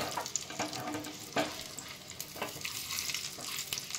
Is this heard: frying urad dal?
yes